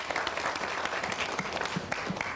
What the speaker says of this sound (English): You can give a better round of applause, ladies and gentlemen,